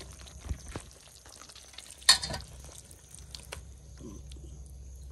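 A spoon scrapes and stirs small-fish curry in a pan with soft scattered clinks, one sharper scrape near the middle, against a quiet, faintly humming room.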